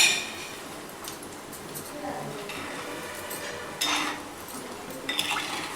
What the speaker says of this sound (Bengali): আমি নাড়ছি